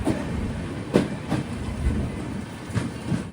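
Matsyagandha Express rolling along the Konkan Railway near Murudeshwar, a steady rumble from inside the carriage with a few sharp clacks of wheels over rail joints, no voices.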